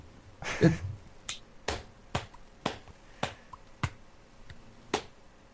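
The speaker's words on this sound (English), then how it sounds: "Sarcastic clapping right there." Slow, sharp claps ring out one at a time, about seven evenly spaced, close and crisp against a quiet background.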